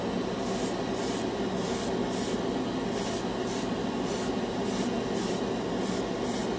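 An airbrush sprays Vallejo Mecha Color paint onto a scale model primed with Tamiya fine white, giving a steady close hiss broken into a regular run of short bursts, with no talking.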